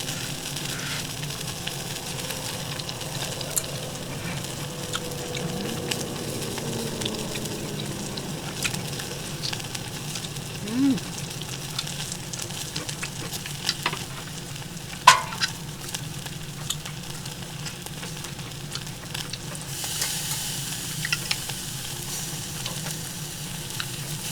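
Beef flower rib meat grilling over a fire-pit at a solo campsite by a reservoir makes a low, continuous sizzle, quiet and close, with a few faint clicks and taps scattered through.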